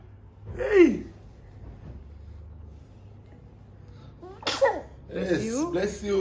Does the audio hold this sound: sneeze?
yes